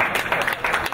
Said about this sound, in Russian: Я думаю, все стоит поддержать аплодисментами